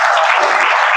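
Steady, dense applause from an audience at a press conference held by Dr Pravin Togadia, filling the whole second at a constant loud level with no voices on top.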